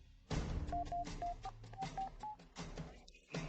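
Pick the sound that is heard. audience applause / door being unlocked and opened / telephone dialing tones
telephone dialing tones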